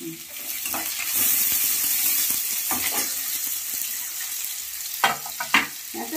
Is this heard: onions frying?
yes